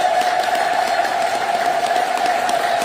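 Church congregation ululating and cheering in praise, a steady high trilling wash of many voices with crowd noise beneath, loud and continuous.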